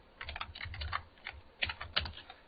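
Computer keyboard keys clatter in irregular bursts of quick taps while a command is typed into a terminal during a hacking exercise, close and fairly quiet with no talk.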